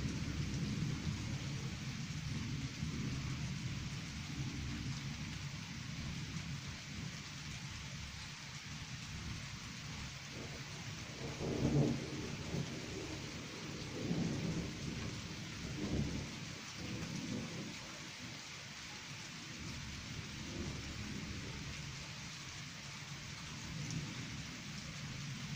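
A night thunderstorm passes just east of Berlin: steady rain patters throughout while several distant thunder rumbles swell and fade in the middle, moderately quiet and with no voices.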